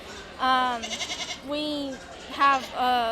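Several Nigerian dwarf goats bleat at a county fair, with harmonic, wavering cries coming in three or four separate calls, one of them a stuttering tremolo bleat, all fairly close and loud.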